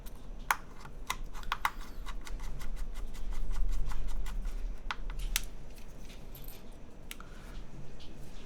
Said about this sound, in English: I can hear someone is doing some speed heavy typing.